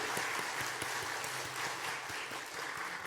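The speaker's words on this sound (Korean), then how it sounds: "여러분 박수 보내주십시오" Steady applause from a church congregation, a continuous patter of many hands clapping throughout, with no talking over it.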